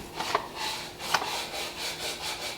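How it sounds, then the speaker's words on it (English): Wood being sanded by hand in a garage, a soft rhythmic rubbing of repeated back-and-forth strokes with a couple of sharper scrapes, fairly quiet and close. "while Gavin is sanding that stuff"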